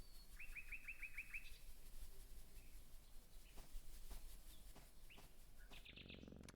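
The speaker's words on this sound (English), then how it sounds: "Now the birds are flying away." Birds in the game Mutropolis give a quick run of bright chirps early on, then a few scattered calls and a soft flutter of wings near the end over a steady background hiss.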